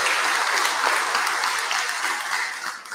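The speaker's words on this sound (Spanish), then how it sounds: "Para ellos un fuerte aplauso" Applause from a congregation at a Catholic mass, a dense steady wash of clapping filling the whole stretch and fading slightly near the end.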